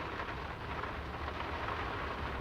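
Steady, dense rainfall in the video game Draugen, a constant broadband hiss of falling rain with a low rumbling undertone, even and unbroken throughout, without speech.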